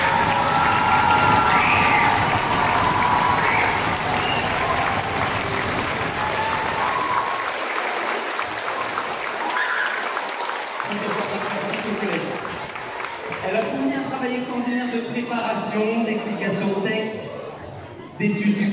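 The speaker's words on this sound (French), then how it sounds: "Merci d'applaudir comme il se doit" An audience applauds loudly after a shadow-theatre video presentation at a school event, dense clapping mixed with cheers and children's shouts, fading into scattered claps and excited voices toward the end.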